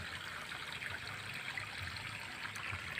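Water trickles steadily in a mountain stream near Rodriguez, Rizal, a continuous close hiss and gurgle with no voices over it.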